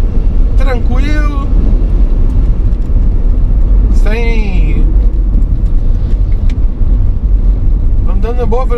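A car descends the Teresópolis mountain road in fourth gear under engine braking, a steady close engine drone running throughout with a few brief chirping tones over it.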